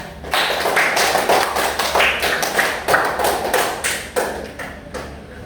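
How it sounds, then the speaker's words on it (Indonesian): A class of children in an online lesson on coding and artificial intelligence clapping together, a loud, irregular burst of many hands slapping with sharp individual claps standing out, close and sustained. "Tepuk tangan buat kita semua ya"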